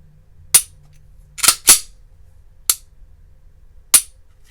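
Five sharp, isolated clicks from a Glock 19X pistol trigger being dry fired after customizing, spaced irregularly with a quick pair in the middle, crisp and close against a quiet background.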